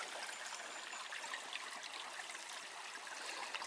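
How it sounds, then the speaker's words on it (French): A river in a small wood flows with a soft, steady rush and trickle, faint and continuous, with no voices. "La rivière elle est tellement agréable en vrai, on entend même l'eau et tout"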